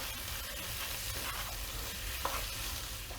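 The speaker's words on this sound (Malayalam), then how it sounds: "ഇതൊന്ന് നമുക്ക് നല്ലോണം മിക്സ് ചെയ്യാം." Turmeric, paprika and cumin powders are stirred in a frying pan, giving a constant soft sizzle with gentle scraping from the stirring, quiet and with no speech.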